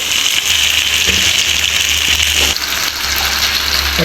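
Fish fries in hot oil in a pan, a loud, steady, hissing sizzle that runs unbroken from start to finish, with no voices.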